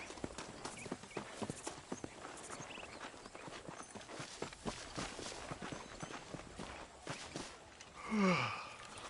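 Horse hooves clip-clop in a steady run in the video game Red Dead Redemption, a dense rhythmic patter of hoofbeats at moderate distance, ending with a short louder swell near the close.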